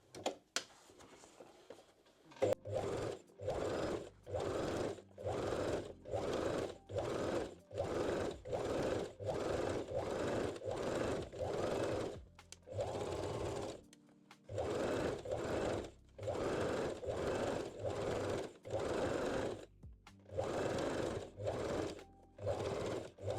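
A sewing machine stitching folded elastic on lingerie, heard close as a long series of short, even bursts of rapid mechanical chatter separated by brief pauses, with no talking.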